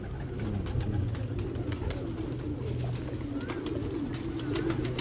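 Soft, low cooing of pigeons kept by a fancier in Haripur, Hazara, a close and continuous burble with faint fluttering and clicks, no talk.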